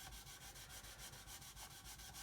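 Worn 400-grit Matador sanding stick rubbed back and forth over a surface to level low spots, a rhythmic, even rasping in regular strokes, close and alone.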